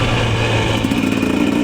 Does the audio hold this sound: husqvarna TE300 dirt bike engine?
yes